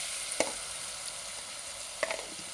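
Ginger, garlic and onion frying in a pan, a steady bright sizzle with two sharp utensil clinks against the pan.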